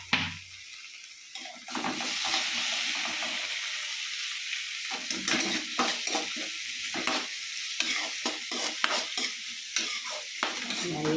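Half a tomato fries in a pan of oil for a green peas and egg dish, a close, steady sizzle punctuated by repeated scraping stirs of a spoon against the pan.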